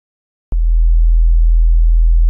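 A loud, deep, steady sine tone from the Serum synthesizer, set up as a kick drum with drive added, starting with a sharp click and then droning on without change.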